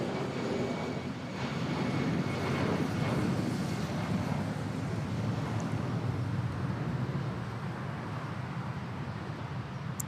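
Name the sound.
Cebu Pacific Airbus A320 taking off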